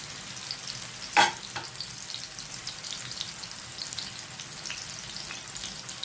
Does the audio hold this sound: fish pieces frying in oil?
yes